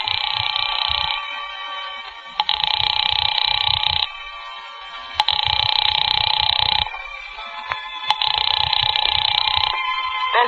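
A telephone rings repeatedly in long electronic bursts with short gaps between them, loud and close, and nobody picks up.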